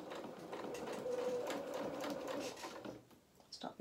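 A home sewing machine runs a straight line of stitching across dress fabric with no reversing, a soft continuous whirring close by for about three seconds before trailing off into small handling clicks.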